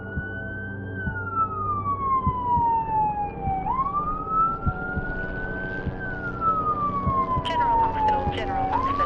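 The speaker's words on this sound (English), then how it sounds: "The ambulance is just leaving now." An ambulance siren wails as the vehicle pulls away, its rising and falling tone sweeping slowly and clearly over traffic rumble, with a short burst of quicker yelping toward the end.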